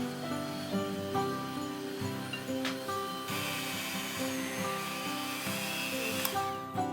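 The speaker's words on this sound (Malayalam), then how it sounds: "ഇനി ഇതൊരു ഹാൻഡ് ബ്ലെൻഡർ വെച്ച് മിക്സ് ചെയ്തെടുക്കാം" A hand blender whirs through panettone batter with beaten egg mixed in, a steady motor whine that shifts pitch and load as it mixes, running alone without talk.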